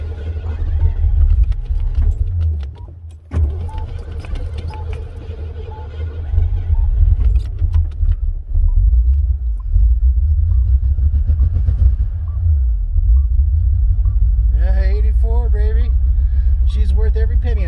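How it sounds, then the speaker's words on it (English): An old carbureted car is started with a square ignition key: a short crank, then a loud, low, rumbling idle that keeps running close by, with someone talking over it now and then. "So we're going to fire her up, and let's see if she starts."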